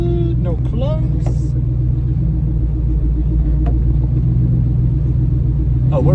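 A 1955 Chevy making tight radius turns in a school parking lot, its engine a loud, steady low rumble close up, with a few brief clunks and a voice talking over it near the start.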